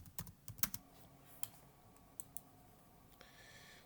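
Keys tapped on a computer keyboard, a quick cluster of sharp clicks followed by a few scattered later taps, faint and close in a quiet room.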